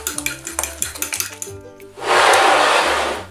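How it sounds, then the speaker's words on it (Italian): A whisk beats an egg, cheese and milk mixture in a bowl with quick, rhythmic clinking strokes, then breaks into a louder, steady rushing whir for the last second or so. "Andiamo a sbattere bene."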